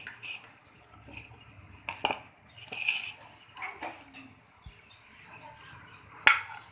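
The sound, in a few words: bowl and utensils being handled while making pani puri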